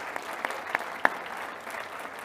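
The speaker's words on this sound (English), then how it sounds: "Let's give them a round of applause." An audience at a general session applauds in a light, fairly faint patter with a few sharper claps, brief and without speech.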